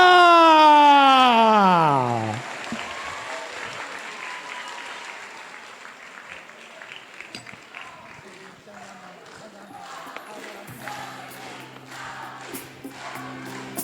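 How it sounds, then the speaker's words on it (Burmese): A loud falling tonal sweep gives way to steady audience applause, many hands clapping together over a crowd's murmur. "သမီးလေးတို့လက်ခုပ်တန်းနဲ့အကျယ်ကြီးကြားကြပါရခင်ဗျာ"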